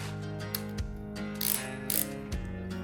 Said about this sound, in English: it ratchets both ways